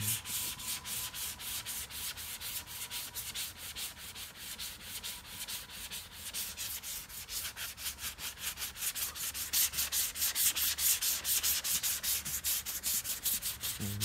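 Steady rhythmic sanding of a 2005 Ford Mustang's front bumper before painting, a close, continuous rasping scrub with fast regular strokes, no voices.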